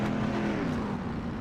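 Pure stock dirt race cars at Knoxville Speedway in the iRacing video game roar loudly with a steady, droning engine note, close and continuous for the whole brief moment.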